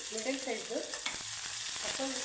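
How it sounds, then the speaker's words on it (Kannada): Mustard seeds splutter and crackle in hot oil in a pan while cooking kurma, with a steady sizzle and scattered pops, close and continuous throughout. "ಸಾಸಿವೆ ಚಿಟ್ಕೊಡ್ತಾ ಇದೆ"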